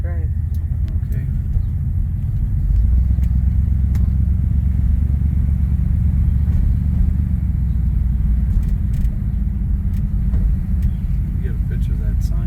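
A 1957 Ford Fairlane 500 cruises through a small downtown, its engine a steady, low, continuous rumble with road noise from inside the car and no clear speech.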